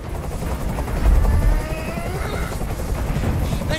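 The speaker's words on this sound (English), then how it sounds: "I can't stand that noise anymore. Tell that helicopter to get out of here." A helicopter hovering in the video game Detroit: Become Human, a loud continuous rotor thrum with dense low chopping pulses and steady mechanical whine, holding constant throughout.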